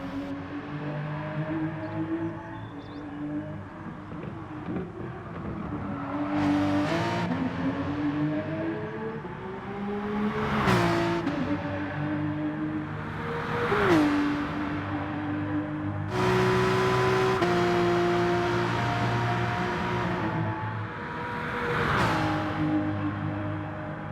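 Gran Turismo-style GR3 race car lapping Bathurst in a video game: a loud, steady engine note climbing through the revs with repeated gear-change drops and swells over about 24 seconds, with no voices.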